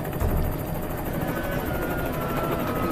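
A helicopter drones steadily overhead, its rotor chop and engine whine loud and continuous with no voices.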